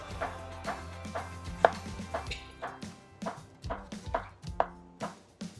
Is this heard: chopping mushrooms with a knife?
yes